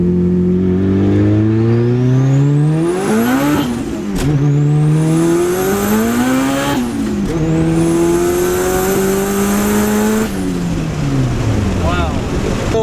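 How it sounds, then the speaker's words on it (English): A turbocharged VTEC Honda Civic revving to 9,000 rpm with its exhaust cutout open, pulling hard through several gears, pitch climbing steadily with each pull, then dropping briefly at each shift; loud, close and throaty. "let's do a roll with the exhaust cutout open."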